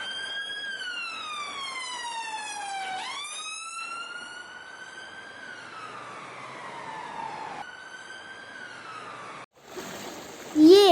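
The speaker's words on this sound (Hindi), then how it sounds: "ये है पुलिस कार, जिसे हम हिंदी में बोलते हैं पुलिस की गाड़ी।" A police car siren wails in long rising and falling sweeps, fairly loud and steady, before cutting off abruptly near the end under a brief burst of other noise.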